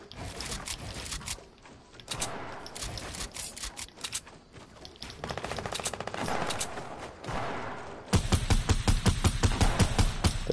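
Gunfire in the battle game Fortnite, repeated bursts of rapid shots in several clusters, some distant and some close, ending in a loud sustained volley, with a voice speaking briefly in between.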